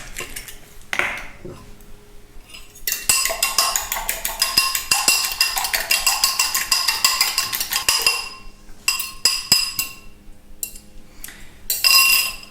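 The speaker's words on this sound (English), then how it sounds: "you want to give them a good whisk before you add them to your bread mixture" Steady clinking and tapping of a whisk against a bowl while beating 2 eggs, a brisk rhythmic metallic clatter running close and fairly loud for several seconds with short pauses near the end.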